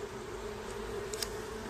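Honey bees from a defensive hive hum in a steady, low drone close by on a hot day during an inspection, a constant buzzing mass with a few brief higher tones flicking past.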